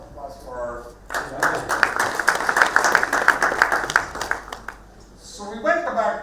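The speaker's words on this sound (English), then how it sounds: "So round of applause for" A round of audience applause swells after a brief moment of talk, holding for about four seconds at moderate loudness before a voice resumes speaking over the fading claps.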